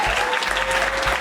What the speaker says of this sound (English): Let's clap it up for POPPYN,